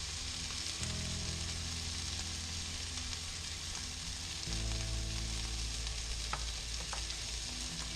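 Wild shaggy mane mushrooms frying and browning in a pan, a steady close sizzle that runs throughout with faint stirring clatter and no talk.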